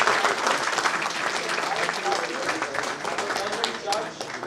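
An audience at a legal session applauds steadily and fairly loudly, a continuous wash of clapping that eases slightly near the end.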